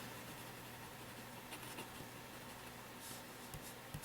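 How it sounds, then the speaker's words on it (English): A fountain pen nib scratches softly across paper, faint and close, with a low steady hum underneath and a couple of small taps near the end. "this actually is a fairly smooth writing pen"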